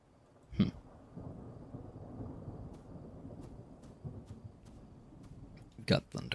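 Thunder rumbles through a stormy night in The Tavern In The Woods video game, a long low rolling roar with scattered crackling under steady rain noise, topped by two sharper cracks near the start and end.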